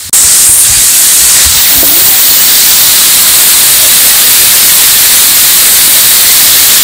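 Waterfall at a busy outing spot, its steady broadband roar of rushing water filling the scene loudly and continuously with no pause.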